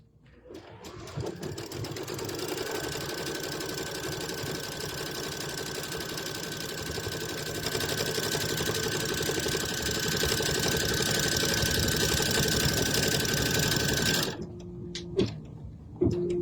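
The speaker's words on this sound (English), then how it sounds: "It's the first satin stitching that it does to do all of my applique pieces." An embroidery machine satin-stitches applique pieces onto a burlap tea towel, a loud, fast, steady mechanical whir that runs continuously for several seconds before stopping abruptly, followed by a few faint clicks.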